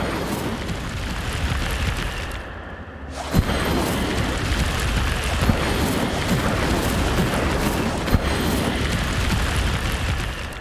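An Incendio fire spell cast in Hogwarts Legacy, a dense roaring blast that surges after a brief drop and keeps rumbling loudly, with a few sharp pops and thumps scattered through it and no talking.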